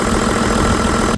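A Toyota Land Cruiser engine idles steadily up close with its air conditioning compressor running, giving a continuous even hum and vibration for a brief moment.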